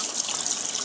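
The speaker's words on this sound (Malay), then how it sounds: "Kita basuhlah bersih-bersih ikan ni." Water splashes and runs steadily as a large fish is rinsed clean in a kitchen basin, a close, continuous wet hiss with no talking.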